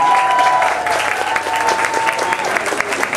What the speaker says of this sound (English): Could we please have a round of applause for all the veterans?